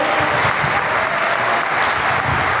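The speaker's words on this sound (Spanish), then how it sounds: "Fuerte el aplauso, amén." A church congregation applauds loudly and continuously, dense clapping filling the whole stretch without pause.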